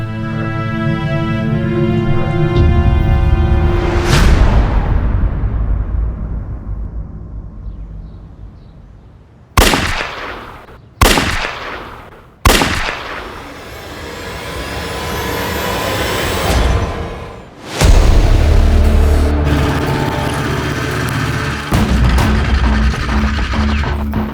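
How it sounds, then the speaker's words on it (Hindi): Three gunshots in a crime-drama scene ring out as sharp, loud bangs a second or two apart, set against a sustained droning background. "सर, पड़ोसी ने 3 गन शॉट्स की आवाज सुनी है।"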